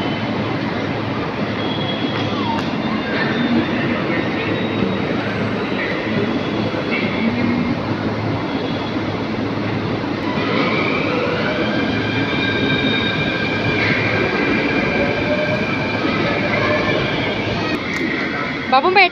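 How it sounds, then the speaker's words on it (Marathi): A Mumbai metro train runs in a steady, loud roar from inside a car, with a rising electric whine and faint squeals. Passengers talk under the noise throughout. "बाबू मेट्रोने पहिल्यांदा आलीस ना?"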